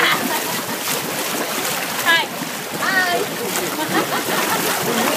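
Water splashing and sloshing at Glen Ivy Hot Spring Spa, a steady wash of splashes close by, with voices talking over it.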